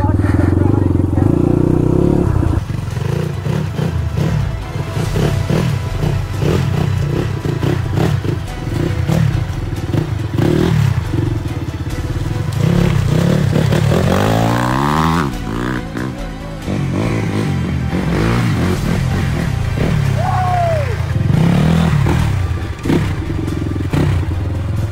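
A motorcycle rumbles steadily over a rough, bumpy road on the way to Khotang, with loud engine drone, rattles and thuds throughout and a voice talking over the ride.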